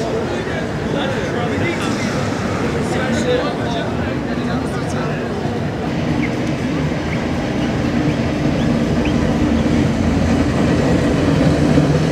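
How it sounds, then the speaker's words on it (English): A tram rolls past along the busy Blackpool seafront on a Saturday night, giving a loud, steady rumble with rail clatter that swells slightly toward the end over a background murmur of crowd noise. "As another tram goes past"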